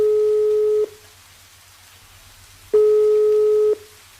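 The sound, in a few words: telephone busy signal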